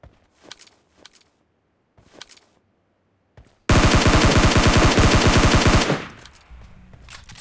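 A few short, scattered gun bursts in a video game shootout give way to a loud, sustained stretch of rapid automatic fire that cuts off and leaves a low rumble behind.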